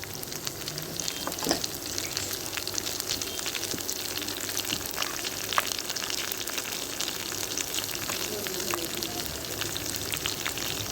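Halved green chilies hit hot oil with a steady, dense sizzle and crackle, continuous throughout with small pops and stirring clicks, close and moderately loud, no voices.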